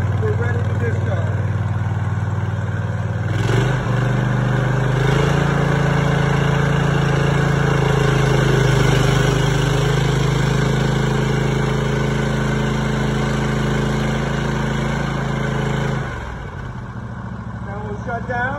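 A Hale portable fire pump engine runs loud and close with a steady drone, its pitch shifting slightly as the load changes and dropping near the end while a voice talks over it.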